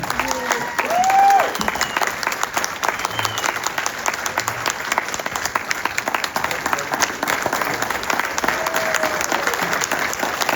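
Sustained crowd applause at a campaign rally in Lewiston/Auburn, Maine, greeting Senate candidate Graham Platner, a steady dense wash of clapping that holds for the full stretch with a voice briefly heard over it near the start.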